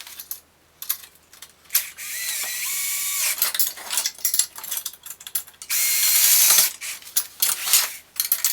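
A 10mm wrench tightens screws on a Gude MSKT 760 folding welding table, making close, repeated metallic ratcheting clicks in short bursts with pauses between them.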